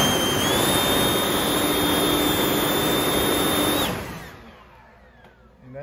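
A Hart 40V battery leaf blower runs in turbo mode with a loud, steady whining roar and a high tonal whistle, then cuts off near four seconds and winds down into quiet.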